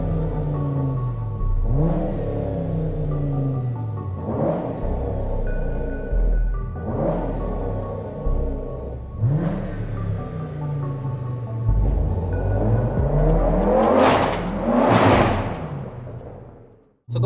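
A 1070 hp Audi RS6 accelerates hard through repeated gear changes, each pull rising in pitch before dropping, ending in a loud high-revving surge; close, loud engine sound with little talk.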